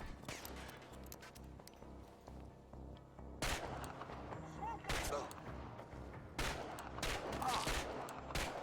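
Gunshots in the video game Chernobylite: a series of sharp, loud cracks at irregular intervals over a low ambient rumble, with a voice talking at times in between.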